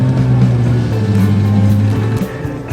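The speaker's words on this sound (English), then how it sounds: "the Renault 16 has just arrived" A Renault 16 car arriving at a French car show: a steady, close engine drone with a low hum held for a few seconds before easing off near the end.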